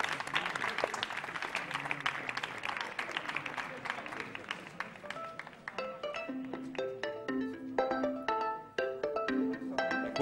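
An audience at the Radio Alba Festival 2020 claps in scattered, fairly faint applause, while ringing tonal beeps and chimes sound over it in the second half.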